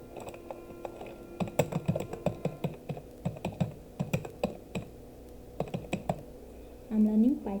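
Typing Python code on a computer keyboard, irregular bursts of close key clicks and taps with short pauses between runs, a brief voice near the end.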